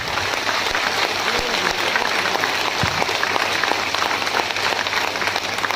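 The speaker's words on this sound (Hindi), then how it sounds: "एक बार जोरदार ताली आप बजा सकते हैं" An audience at a training seminar in Bongaigaon claps loudly and continuously, a dense, even patter of many hands filling the room for several seconds with occasional louder individual claps standing out.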